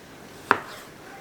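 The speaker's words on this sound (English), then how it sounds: "I'm just gonna start chopping" A single sharp knife chop on a cutting board during summer homestead meal prep, one crisp close strike with a short decay, alone in a quiet kitchen.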